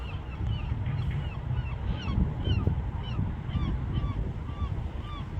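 Several geese honk repeatedly outdoors, a steady series of calls over a loud, wind-like rumble of background noise, with no one talking.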